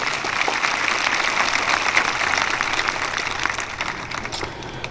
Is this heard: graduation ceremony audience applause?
yes